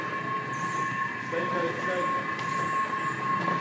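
A Washington DC subway train rides along with a steady rumble, a high sustained wheel squeal and shifting metallic tones, heard from inside the car.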